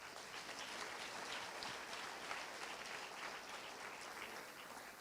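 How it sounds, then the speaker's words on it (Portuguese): A crowd at a religious gathering applauds in faint, steady, continuous clapping that lasts without a break, sounding distant and evenly sustained. "O ex-padre Renato está aplaudindo Jesus"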